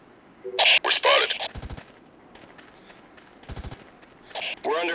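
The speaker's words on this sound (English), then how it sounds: "We're under fire" Bursts of automatic gunfire in the Tom Clancy's Ghost Recon Heroes shooter game, two short rapid volleys of clipped shots separated by quieter stretches, with shouted voices breaking in around them.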